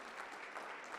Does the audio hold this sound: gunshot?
no